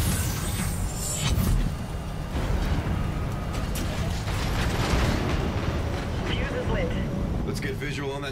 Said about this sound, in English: Visual on that tower detonation.